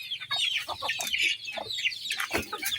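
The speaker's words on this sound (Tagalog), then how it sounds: "Ito bagong sisiw to." Chickens cluck close by in quick, overlapping bursts, joined by high peeping from newly hatched chicks.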